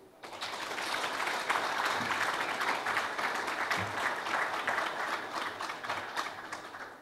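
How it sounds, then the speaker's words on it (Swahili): Steady applause from an audience at a Simba club tender announcement, dense clapping that holds for several seconds at moderate level. "Makofi machache."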